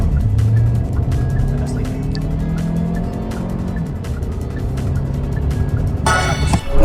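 Hyundai Tucson Hybrid in sport mode with traction control off, accelerating hard from standstill toward 100 km/h, a loud continuous engine and tyre roar with shifting pitch and a rising surge near the end.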